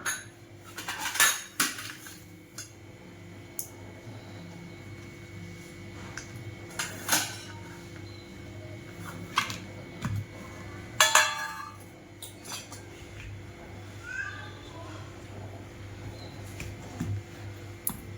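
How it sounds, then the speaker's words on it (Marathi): A knife chops bitter gourd on a cutting board in a home kitchen, giving sparse, irregular knocks and clinks, some in quick small clusters, over a quiet background. "आता आपण कारला आधी चिरून घेऊया।"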